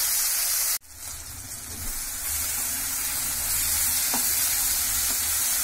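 Steady sizzling of spices frying in a hot pan for masala creamy chicken, a continuous close hiss with faint stirring scrapes, after a brief sharp knock at the start.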